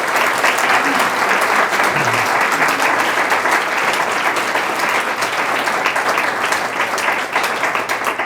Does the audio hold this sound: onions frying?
no